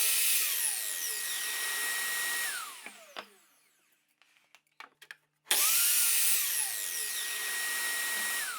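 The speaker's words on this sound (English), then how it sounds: "I make the cuts using the miter saw" Miter saw cutting wooden boards: a loud, sustained whine of the blade through wood that winds down, a few quiet clicks and knocks during a short pause, then a second loud cut that runs to the end.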